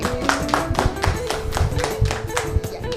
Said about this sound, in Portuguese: Aplauso para ela